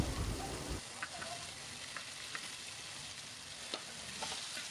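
Potatoes sautéing in a pan on a medium flame for prawn theeyal, a constant close sizzle with a louder burst at the start, then occasional knocks of a spatula stirring.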